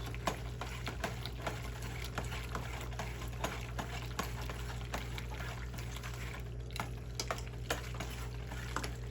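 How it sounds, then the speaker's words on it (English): Shells and cheese sauce stirred in a pot as the cheese warms and melts, giving a steady soft scraping and sloshing with faint clicks of the spoon, close and fairly quiet with no talking. "And I will mix this all up."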